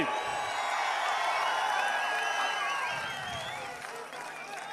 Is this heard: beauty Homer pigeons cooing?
no